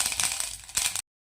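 Mustard seeds hit hot oil in a pan with a steady, dense crackling sizzle that flares briefly before cutting off abruptly, no voices.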